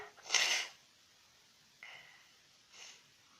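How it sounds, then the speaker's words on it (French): A sharp, breathy sneeze bursts out close by, followed by two softer sniffs or snorts a moment later, with quiet room tone between. "Je vais éternuer."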